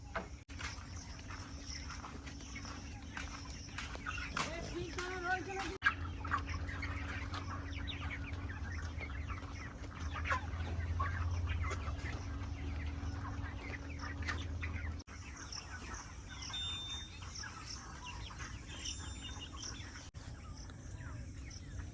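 Chickens cluck and call continuously in a busy poultry shed, with a low steady hum of machinery and scattered bird sounds throughout.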